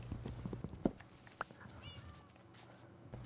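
A tamed cat in Minecraft gives a couple of short, quiet meows amid faint game sounds and soft thumps, with players talking nearby.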